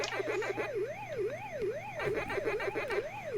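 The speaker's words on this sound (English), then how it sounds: "So we've got the sirens playing in the background, and we got chomping playing in the foreground." The ghost siren from a Pac-Man port runs on a CoCo computer, a quiet electronic tone rising and falling in quick regular sweeps, with chomping blips layered over it.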